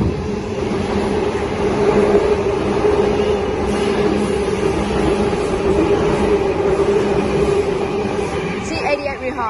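Train pulling away from a station on a Clyde rail line, heading for a maintenance center, a loud steady low rumble with rolling wheel noise throughout and a short rattle near the end.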